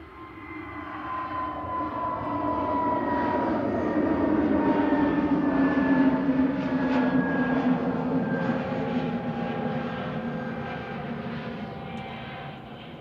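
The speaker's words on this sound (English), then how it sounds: "That's another A320neo GUZ LX departing." An Airbus A320neo airliner departing Manchester Airport roars with a broad, steady jet rumble that swells and then slowly fades, heard from a distance with no talk over it.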